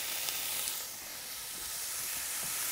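Bacon sizzles in a Dutch oven set over coals, a steady, even hiss of frying fat that carries on without a break and with no talk.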